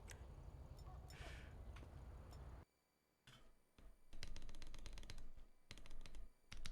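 Quiet computer keyboard typing taps along in irregular bursts of clicks, broken by a brief near-silent gap, with some heavier keystrokes and faint background noise.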